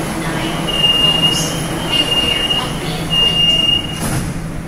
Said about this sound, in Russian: Вот поезд. Приехал.